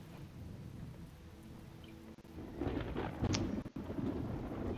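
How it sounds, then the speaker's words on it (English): Steady rain pours down with a deep rumble of thunder growing louder partway through, heard in a dismal outdoor area of the video game The Talos Principle. "Getting rained on here."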